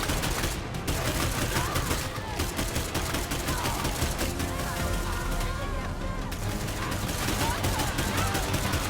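Rapid bursts of automatic gunfire from the zombie survival video game State of Decay 2, firing continuously and loudly through the whole stretch, with a voice talking over the shots.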